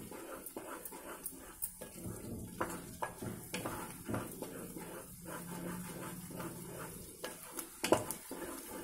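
Masala paste for paneer butter masala frying in a pan, with soft sizzling under repeated scraping and stirring clinks of a spoon against the pan, close and fairly quiet.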